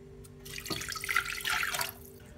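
Water from a tap pours into a pot of chicken and parsley for soup, a splashing rush in two bursts over a steady kitchen hum, with no talking.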